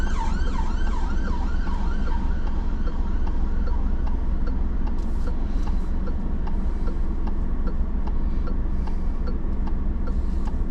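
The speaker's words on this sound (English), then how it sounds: "I hear sirens" An emergency vehicle siren wails loudly in repeating rising and falling cycles as it passes a learner car on a road in Kettering, over steady engine and road noise.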